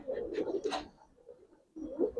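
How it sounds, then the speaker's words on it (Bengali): Old-breed Giribaz pigeons coo in a loft in Old Dhaka: soft, low, throaty rolling coos close by, two bursts separated by a brief quiet gap, with no speech. "কবুতর চান তাদের উদ্দেশ্যে কিছু কবুতর দেখাই"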